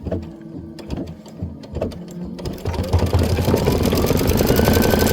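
An embroidery machine stitches a bench pillow design, starting with a few scattered clicks before settling into a steady, loud, close mechanical whir.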